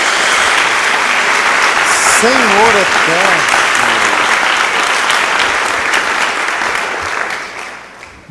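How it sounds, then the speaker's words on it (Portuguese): A church congregation bursts into loud, sustained applause that fills the whole stretch, while a voice speaks briefly over the clapping before it begins to fade at the end. "Dê uma salva de palmas a Jesus"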